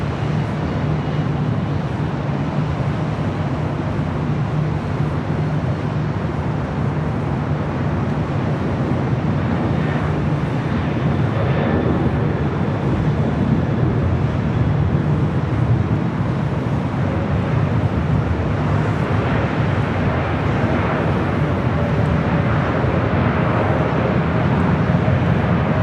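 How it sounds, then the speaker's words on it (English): A Boeing 747 cargo jet landing on a runway at LAX, a loud, steady low engine roar with broad rushing noise throughout, swelling slightly toward the end, mixed with wind buffeting on the microphone. "Green Air Cargo 747A touching down on 25 left."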